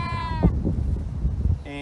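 A sheep bleats in a drawn-out call at the start, then a second bleat comes near the end, with a person speaking in between.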